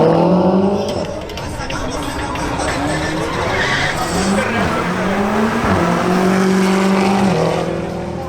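A BMW M5 makes a drag racing pass, its engine note climbing loudly through the revs, dropping sharply at gear changes and rising again before easing off.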